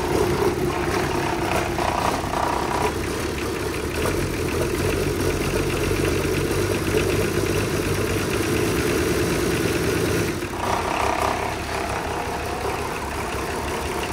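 A Nissan Patrol pickup's engine runs loud and close, a steady rough idle with a rise in revs around the middle and a brief blip near the end, with no one talking.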